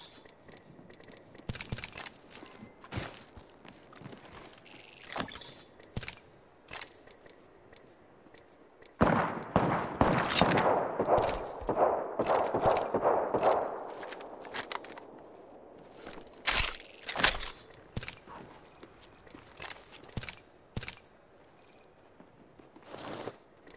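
Gunfire in a battle royale video game cracks as sharp, scattered shots, with a denser, louder burst of rapid fire in the middle before the shots thin out again.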